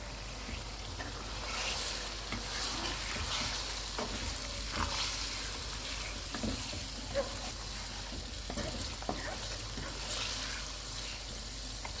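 Chicken liver frying in hot oil with ginger garlic paste for kaleji masala, a steady soft sizzle with occasional stirring scrapes and light pops, fairly quiet and close.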